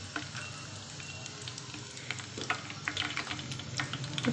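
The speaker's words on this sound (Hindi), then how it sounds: "हल्का सा इसको इसमें फ्राई होने देंगे" Whole spices frying in oil over a fairly high flame for a home-style aloo beef gosht dish, a continuous close sizzle with crackling pops and light stirring scrapes growing busier toward the end.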